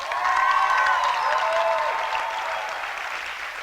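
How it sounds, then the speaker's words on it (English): An audience applauds the poets at a poetry slam, a dense, sustained wash of clapping with some whistling and cheering, loud at first and easing slightly toward the end. "One more round of applause for all the poets"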